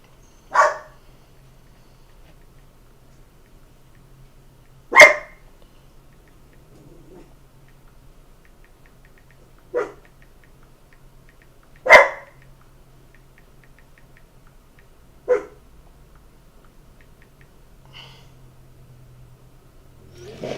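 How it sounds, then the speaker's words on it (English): A dog barks indoors in single, loud, sharp yaps spaced several seconds apart, five in all, over a quiet room with no talk. "My dog's going crazy. I don't know what in the heck she hears something outside."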